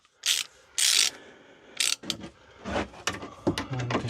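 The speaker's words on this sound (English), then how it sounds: "Let's use the shorter ratchet." A short ratchet turns a bolt on a Mini Cooper S Cabrio rear axle carrier, with bursts of fast clicking followed by scattered clacks and clunks of tool and metal, close up.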